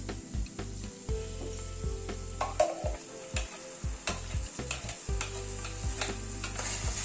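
Ground masala paste frying in a pan for a capsicum dish produces a soft background sizzle under repeated rhythmic scraping strokes of a spatula, fairly quiet and without voices.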